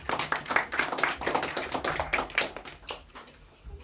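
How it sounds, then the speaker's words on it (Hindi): A crowd gathered for a Krishna Janmashtami katha claps in thanks, a dense, steady patter of many hands close by that carries on throughout and thins slightly toward the end, with no one talking over it. "तो हम चाहते हैं उनको हृदय से और तालियों के साथ धन्यवाद दें।"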